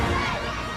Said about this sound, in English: The crowd is loving their American cousin.